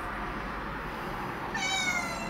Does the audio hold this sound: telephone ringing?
no